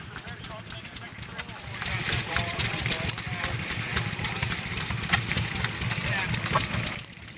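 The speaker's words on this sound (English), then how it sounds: "Here are sights and sounds of some of the antique engines that were on display" An antique engine on display at an old-time power and equipment show runs with a rhythmic chugging beat, steady and fairly close, with a faint background hum throughout.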